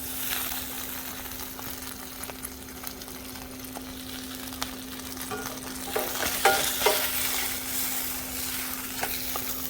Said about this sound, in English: I'm gonna start cooking my grilled cheese.